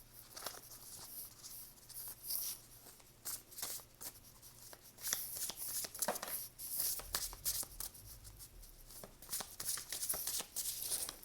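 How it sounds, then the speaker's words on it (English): Soft, quiet riffling and tapping of tarot cards being shuffled against a table surface, in irregular bursts with faint low rumbles. "I've noticed that they shuffle so loud on this table."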